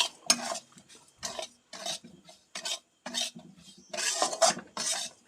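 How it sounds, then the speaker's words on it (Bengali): Semolina stirred in hot ghee in a pan, a series of rhythmic scraping strokes of a spoon against the pan with a soft sizzle underneath, close and distinct, no voices. "সুজিটাকে খুব ভালোভাবে ঘিয়ের সঙ্গে ভেজে নিতে হবে"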